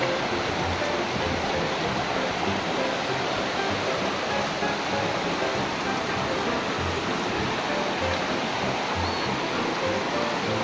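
Steady rushing water flows continuously, dense and close, like a stream over rocks, with no talking.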